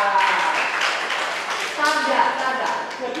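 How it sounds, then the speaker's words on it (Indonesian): A church audience claps briefly during a baptism lesson, scattered hand claps mixed in with a speaking voice throughout. "Nih, tepuk tangan."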